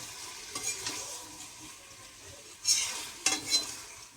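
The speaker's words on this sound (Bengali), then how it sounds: "কাকিমা এখন মাংসটাকে কষাচ্ছে ভালোভাবে" Meat is stirred and fried in a pan for kosha: a soft, continuous sizzle with a few sharper scraping clinks of the spoon against the pan, heard close and fairly quiet.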